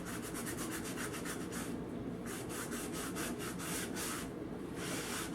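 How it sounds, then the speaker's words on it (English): A rag rubs and wipes excess paint off a wooden printer's type case in steady, repeated strokes of soft scraping, close up and with no talk. "the longer I'm waiting to wipe it off, the harder it is to get the excess off."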